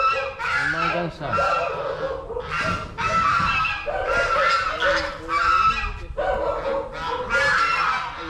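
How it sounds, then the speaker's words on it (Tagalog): A flock of geese honks loudly and almost continuously near rice paddies, with overlapping harsh calls close by. "Yan, may mga gansa pala dito."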